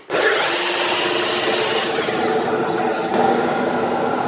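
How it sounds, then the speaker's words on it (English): A saw making a single pass through wood on a shop-built mitre spline sled with a plywood base, a loud, close, continuous whirring cut that starts abruptly and holds steady to the end. "just take out the bottom of this V shape here with 1 pass of the saw"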